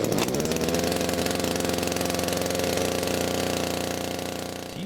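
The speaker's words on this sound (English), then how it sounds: "Pull the cord until the engine starts to splutter." The petrol engine of a 5-in-1 garden multi-tool runs loud and close, a rapid buzzing, rattling drone that stays steady and then eases slightly near the end.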